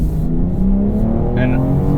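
A 2022 BMW X3 M Competition engine roars loudly under acceleration, a steady rising drone heard from inside the car with no break in the sound.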